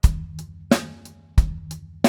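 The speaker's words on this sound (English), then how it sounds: "Regular snare drum." Regular snare drum from a drumset, struck alone with no rim shot, giving four sharp, loud cracks in a steady, evenly spaced pattern, each with a short ringing decay.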